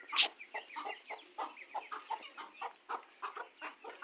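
A hen clucks in quick, repeated bursts, a dozen or so short calls in a loose rhythm, faint but close, with one sharp higher squawk early on.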